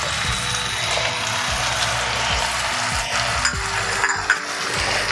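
Spice paste fries in oil for a rui fish curry, giving a dense, steady sizzle close up, with repeated low thuds and scraping knocks from stirring running through it.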